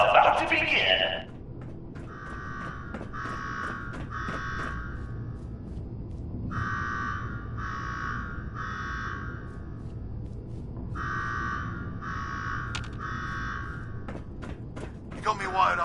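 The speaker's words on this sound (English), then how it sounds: "Now go shut off that damn alarm" An alarm buzzer in the Fallout 4 Nuka-World video game blares in three groups of repeated harsh tones, with game sounds and thumps around them.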